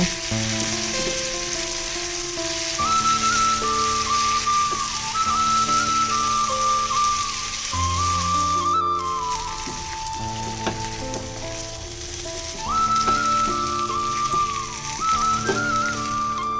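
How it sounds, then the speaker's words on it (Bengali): Jackfruit seeds and potato sautéing with spices in a pan, a steady loud sizzle and frying hiss with stirring scrapes throughout, continuous and close, with no voices. "এবারে সমস্ত মশলাগুলোর সাথে কাঁঠালের দানাগুলো আমি ভালো করে কষিয়ে নেব।"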